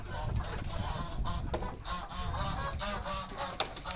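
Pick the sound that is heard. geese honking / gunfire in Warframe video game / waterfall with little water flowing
geese honking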